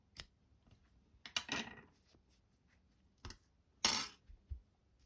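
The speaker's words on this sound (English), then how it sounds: "Chain 1 and you would cut your yarn." A few quiet, crisp snips of scissors cutting yarn after a crochet granny square, spread out with gaps, close by and with no talking.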